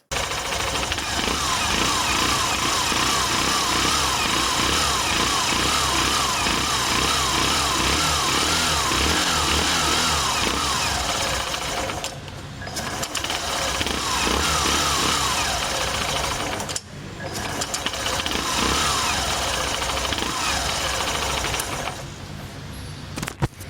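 A Super Splendor Xtec 2.0 motorcycle engine idles loudly and close with a steady, thumping putter, cutting out briefly a couple of times before running on.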